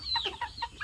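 A black chicken gives a quick run of soft, close clucks, about four short notes in under a second, with no talk.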